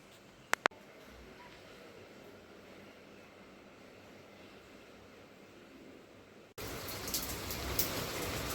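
Steady rain falling during a heavy downpour in Rajkot, a soft continuous hiss that gets noticeably louder and closer near the end, with a couple of sharp clicks early on.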